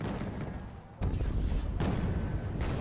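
Artillery fire in a naval battle video game, a distant rumble that breaks into two heavy booming shots about a second apart, each followed by sustained roar.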